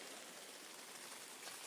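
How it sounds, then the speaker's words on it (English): Steady, dense patter of rain drumming on the wet walls of a tent at a solo campsite, a continuous hiss with no pauses and no voices. "So it is still raining."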